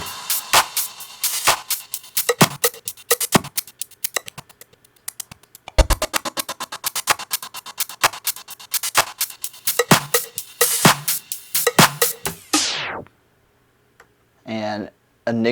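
The trans effect on a Pioneer DDJ-1000 DJ controller chops a beat into rapid, evenly gated ticking slices that cut off sharply, followed by a short pause and a few brief voiced bursts.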